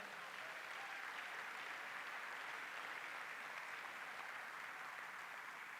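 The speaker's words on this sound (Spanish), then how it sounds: "Denle un aplauso al Señor" A church congregation claps in a sustained, even burst of applause that fills the room at a steady level from start to finish, with no voices standing out.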